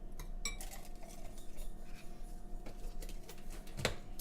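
A spoon clinks and scrapes while stirring a dollop of sour cream into cheesy potato and bacon soup in a crock pot, soft and close, with one brighter clink near the end and no talk.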